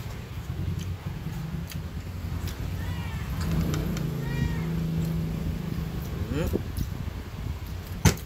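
A cat meows repeatedly over steady background hum, with a voice talking in between; the meows are moderately loud and close.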